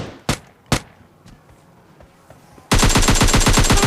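Video-game gunfire in PUBG Lite: two sharp isolated shots early on, a few faint distant pops, then a loud sustained burst of rapid automatic fire filling the final second and more.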